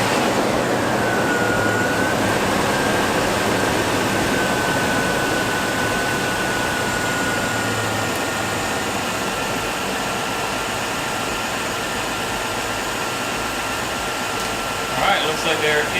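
A 2000 Lexus LX470 engine runs with a steady, loud broadband drone throughout, a rising whine settling in early on, and a brief faint clatter near the end.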